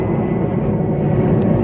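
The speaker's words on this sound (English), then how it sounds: "there's a plane. It's really, I mean, it's taking off" An airplane climbing steeply on takeoff gives a continuous, loud, broadband engine roar near a nature reserve on an afternoon, steady throughout with no talk.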